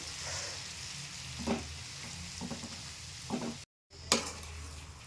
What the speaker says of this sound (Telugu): ఈ ముగ్గుట్లో వేసుకొని పచ్చి పోయేటట్టుగా ఇందులోనే కొద్దిసేపు వేయించాలి